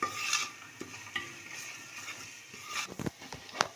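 Masala with chili powder for chicken dum biryani stirred in a pan, soft scraping strokes over a gentle sizzle, ending in a few quick sharper clinks up close.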